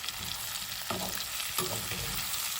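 Mustard green stems frying with pork in a pan give a steady, close sizzle with broadband crackle, broken by two short stirring scrapes.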